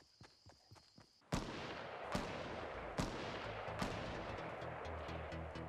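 Gunfire in a Fortnite match rings out in several loud, sharp cracks about a second apart, above a steady background din, after a quieter opening with light tapping.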